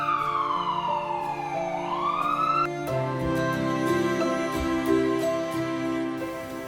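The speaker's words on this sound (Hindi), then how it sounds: "एम्बुलेंस आ गई" Wailing ambulance siren sweeping down and back up in pitch, then shifting to a steady multi-tone wail as the vehicle arrives close by, loud and continuous with no talking.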